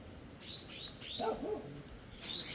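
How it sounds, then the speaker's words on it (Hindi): Parrots flocking to ripening fruit in a Himalayan mountain village chirp in short, bright calls, fairly faint and distant, over steady outdoor background noise. "इन तोतों ने सच में आतंक मचा रखा है।"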